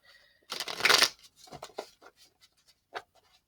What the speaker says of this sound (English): let's give these cards a quick shuffle here